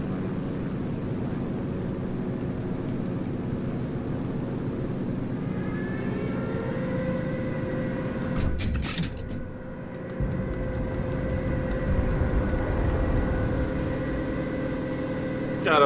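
Dive bomber aircraft engine in the WWII game Enlisted throttles down: a continuous droning propeller hum whose pitch eases lower, with a brief burst of cockpit noise midway, steady and close throughout.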